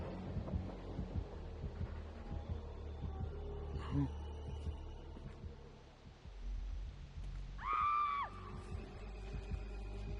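A character scream from the video game Dead by Daylight, one short rising and falling cry over steady game ambience and low rumble, moderately loud and a little distant.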